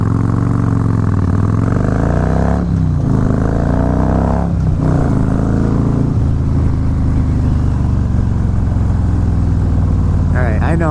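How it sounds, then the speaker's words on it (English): Harley-Davidson Fat Boy motorcycle engine revving hard with heavy throttle, a loud, deep rumble rising and falling through repeated revs, close by and continuous throughout. "I know I'm a little bit heavy on the throttle today"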